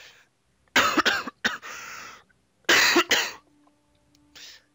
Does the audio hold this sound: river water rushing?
no